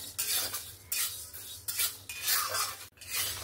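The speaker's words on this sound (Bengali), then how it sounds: "দুটো ডালকে সুন্দরভাবে ভেজে নেব।" Mixed dal lentils stirred and dry-fried in a pan, a spatula scraping and clinking against the metal in repeated bursts with soft rustling between strokes, close and fairly quiet, no voices.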